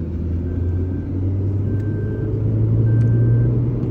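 A car traveling on a road, with a steady low engine rumble and vibrating drone that swells slightly toward the end, close and continuous with no talk.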